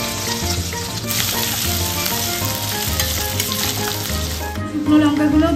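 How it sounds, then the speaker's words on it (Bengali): Chopped ginger and garlic frying in oil left from frying chicken, heard as a loud, continuous close-up sizzle with crackling that swells briefly near the end, no talking. "এবার আদা রসুনটা ভাজা হয়ে গেছে"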